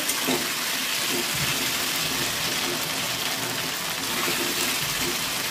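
Water pours steadily into a cooking pan over fried-down spices for boiling potatoes, a continuous close rushing gush with faint splashes and no voices.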